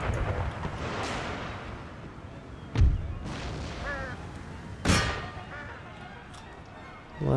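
Artillery cannon fire in the Empire: Total War battle game: two heavy booming blasts roughly two seconds apart over a continuous rumbling battlefield din, with faint clanging and a distant voice.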